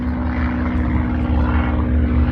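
A propeller airplane drones loudly and steadily overhead at an air show, its low engine hum constant throughout with no voices.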